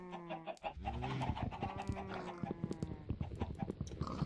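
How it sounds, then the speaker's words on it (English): Chickens clucking in the Minecraft video game, a busy overlapping chorus of short clucks and squawks, fairly faint, with no talking. "Let's see if our chickens want to make more chickens again"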